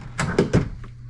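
A drawer in the kitchen of a 2024 Tiffin Allegro Bus motorhome slides and thumps shut, giving three quick knocks and a faint later click, close and fairly loud with no talk.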